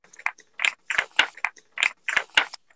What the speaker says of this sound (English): the weights clacking.